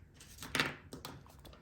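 Scissors cutting paper while making a homemade recipe cookbook, a few quiet close snips and rustles over about a second and a half.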